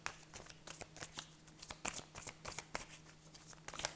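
Oracle cards are handled and shuffled for a card reading, producing faint, close, rapid papery ticks and soft slaps in an uneven rhythm, with no voices.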